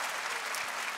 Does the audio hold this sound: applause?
yes